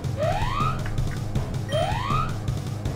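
Pokémon FireRed's in-game alarm wails in two rising electronic sweeps about a second and a half apart, riding over the game's looping music with no voices.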